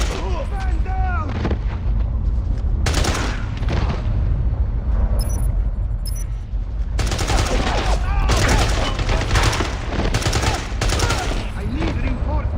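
Rapid gunfire and heavy bursts in a shootout inside a facility in the game James Bond 007: Blood Stone, loud and nearly continuous, with short pauses between volleys and brief shouted voices among the shots.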